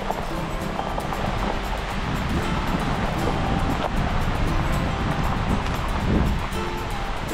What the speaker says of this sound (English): This is Ledge Creek that we're driving alongside of here.